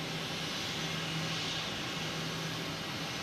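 A JetBlue Airbus A320 airliner roars steadily at Boston Logan Airport, its jet engines giving a broad, continuous rumbling hiss with no talk over it.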